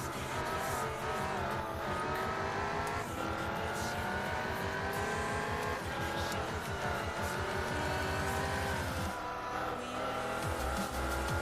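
A Mazda RX-7 race car in Gran Turismo 4 drones closer with a high, steady engine whine that climbs and shifts, tires squealing, under a continuous racing mix with other cars.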